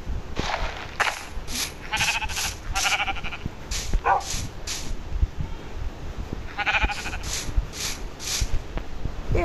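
Sheep in the Minecraft video game bleat repeatedly in short bursts, several calls spaced across the clip over a steady background, with no talking.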